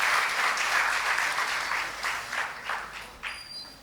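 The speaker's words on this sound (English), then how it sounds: "Let's rise for a standing ovation and give him a huge round of applause" A hall audience rises in a standing ovation for Dr. Rao Saheb Patil, a dense, sustained round of applause that gradually thins toward the end.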